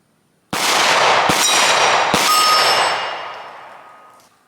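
Three sharp shots from a Walther PDP pistol fired at a target 5 yards away, the first and second close together and the third soon after, loud and near with a ringing decay trailing off.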